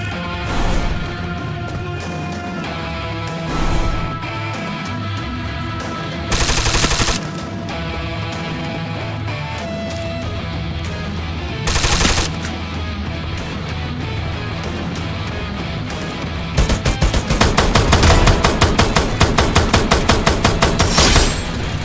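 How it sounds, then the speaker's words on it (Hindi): Free Fire video game gunfire: scattered single shots over a steady game soundtrack, building to a long, loud burst of rapid automatic fire near the end. "हमें सामने की तरफ से गोलियां चलाने की आवाज आती है"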